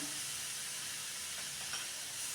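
Tomatoes frying in oil in a pan, giving a steady, dense sizzle with a constant hiss that continues without a break and without any talking.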